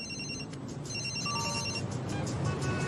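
A cartoon cellphone rings in an animated Spider-Man episode, a repeating electronic ringtone of steady beeping tones heard clearly over a constant background hum with no talking.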